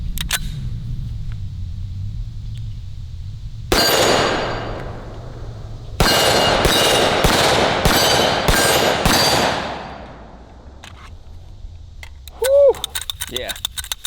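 Desert Eagle .50 AE pistol firing 230 grain Underwood Extreme Hunter rounds outdoors, a loud blast followed by a rapid string of about five booming shots, then quiet with brief talk and clinks near the end.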